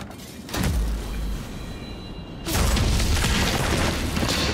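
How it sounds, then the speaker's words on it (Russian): Gunshots in the video game Nobody Wants to Die land as two heavy booming blasts, the second larger and followed by a sustained rumbling roar. "Это что, стреляют?"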